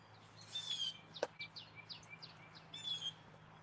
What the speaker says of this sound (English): I can hear the bird in the background here.